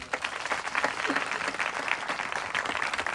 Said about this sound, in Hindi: ताली बजनी चाहिए थी।